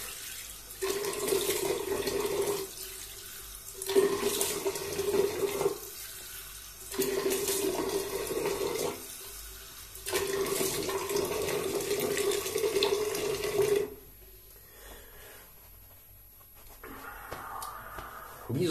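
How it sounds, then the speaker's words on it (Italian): A bathroom tap runs while someone wets their face before a shave with Proraso green-line products. The water flows in several steady stretches broken by short pauses, then stops near the end. "Intanto mi bagno il viso"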